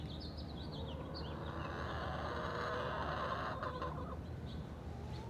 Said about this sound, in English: I'll let you see my chickens here. They've been clucking.